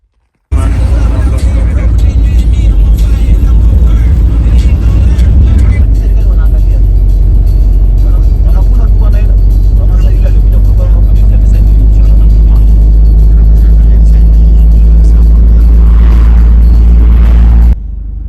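A bus sets off toward Nairobi in East Africa: a loud, steady low engine rumble and road drone heard from inside for the whole stretch, with voices present under the noise.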